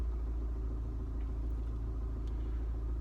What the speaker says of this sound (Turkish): Biraz yağlamasını yapsın, şöyle biraz kendine gelsin motorumuz.